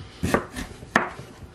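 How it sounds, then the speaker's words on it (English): Knife slicing halved bell peppers thin on a cutting board, two or three crisp close chops against the board with a short pause between them and no talk. "And then I'm going to slice them."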